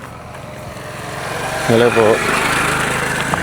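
A motorcycle engine passes along a road near a lagoon in Burgos, Pangasinan, a steady buzzing drone that swells briefly as it goes by. A voice speaks over it and the outdoor background is noisy.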